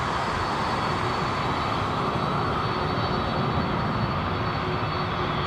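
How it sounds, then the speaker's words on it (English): Airliner jet engines roar continuously at London Heathrow Airport, a loud steady broadband rush with a high fan whine on top, close by and filling the whole stretch with no talk. "Listen to those engines, man. Multi-bladed"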